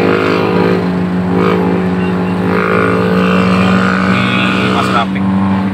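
A Suzuki Ertiga's engine drones steadily as the car accelerates along a night road, a loud continuous hum with a shifting pitch, while people talk over it.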